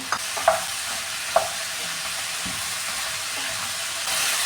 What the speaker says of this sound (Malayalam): ഇനി ഇതെല്ലാം കൂടെ നന്നായിട്ടൊന്ന് വഴറ്റിയെടുക്കാമേ.